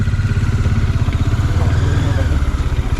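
Motorcycle engine running steadily close by with a low, throbbing chug and rattling clatter, heard near Mattupetty on the way to Kundala Dam in Kerala.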